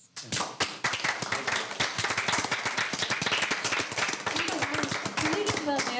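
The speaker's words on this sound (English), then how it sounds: "We do a round of applause." A dense, sustained burst of audience clapping fills a school board of education meeting, steady and loud for several seconds with many hands overlapping.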